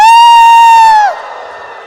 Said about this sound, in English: Bright wants us to cheer for this video